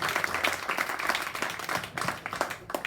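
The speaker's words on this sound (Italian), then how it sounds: "un altro applauso autora" Audience applauding a poet as she takes her seat on a white sofa, a short burst of scattered clapping at moderate distance, no talking over it.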